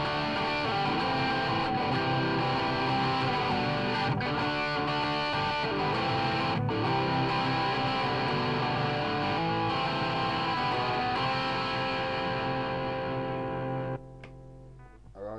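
Electric guitar played through Boss DS-2 and Digitech Hot Head distortion pedals with EQ, gain and level set at noon, giving a dense, continuous saturated tone that rings out steadily before cutting to a short decaying tail near the end.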